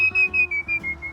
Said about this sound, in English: And that one can whistle,